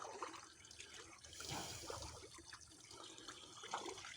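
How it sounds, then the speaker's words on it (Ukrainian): Steady rushing of continuously running water in Oberbach, Germany, a continuous broadband wash that swells slightly midway, with no voices. "От таке вода тече весь час."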